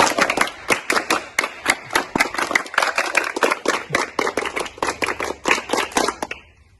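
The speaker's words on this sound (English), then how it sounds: "how do we thank? With VVP clap." A group of students claps together in unison, a rapid, steady run of sharp, close, loud claps lasting several seconds before stopping.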